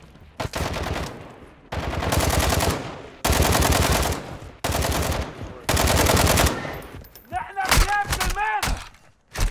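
Gunfire in Call of Duty Modern Warfare II DMZ, long loud bursts of rapid automatic fire repeating several times with short pauses, followed by a few heavier booming shots near the end.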